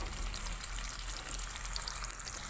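Potato pieces frying in hot salted oil in a pan, a steady, faint bubbling sizzle that crackles softly and evenly throughout with no voices.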